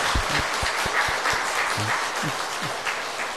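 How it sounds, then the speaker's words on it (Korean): A church congregation claps together for nine newly baptized members at a Sunday worship service, a moderate indoor round of applause with a few voices mixed in. "우리 세례 받은 거 축하하고 또 신앙생활 잘하라고 우리 박수 한번 하시겠습니다."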